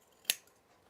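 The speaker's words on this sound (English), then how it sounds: "I'm just trimming away the corners right now." Scissors make a single crisp snip, close and quiet, trimming the fabric corners of a trouser seam allowance during sewing.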